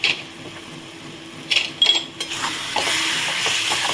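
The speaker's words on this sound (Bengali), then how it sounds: "ভালো করে এটাকে মিশিয়ে নিচ্ছি।" Raw mango chutney with melted sugar, raisins, ginger and coriander powder is stirred in a pan over low heat: a few clunks and scrapes of the spoon, then a steady soft sizzle.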